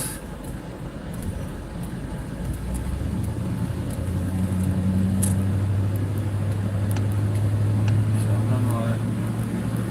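Truck cab interior while driving and turning right through Jelenia Góra, a low engine drone that grows steadily louder with a rising tonal hum, with a voice speaking over it.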